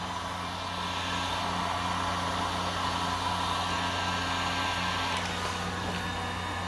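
A heat gun blows steadily and loudly on a cut wedge of material being softened for folding, a constant close airy roar with no breaks.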